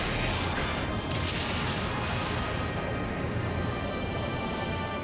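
Hydra cannon firing in the airship battle game Skies of Arcadia: a dense, continuous roar of booming blasts and rumble that fills the whole stretch at steady loudness, with no voices.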